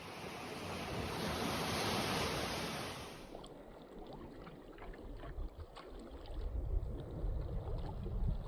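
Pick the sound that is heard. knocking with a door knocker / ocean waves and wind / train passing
ocean waves and wind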